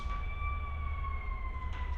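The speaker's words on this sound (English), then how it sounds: "Fire signals, ambulance." A fire truck and ambulance siren wails at a distance, thin and faint but steady above a low outdoor rumble, with no one speaking.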